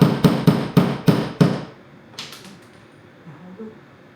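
A hammer strikes six times in a quick, even rhythm, loud and close, followed by a few lighter knocks and faint clatter as things quiet down, with no clear speech.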